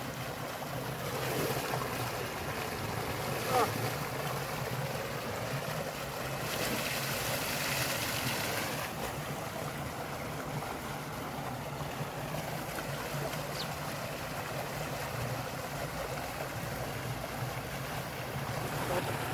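Water gushes from a farm tubewell motor in a Punjab village field while someone bathes under it. It makes a steady, fairly loud rushing splash that lasts throughout with little change, and faint speech may be heard beneath it.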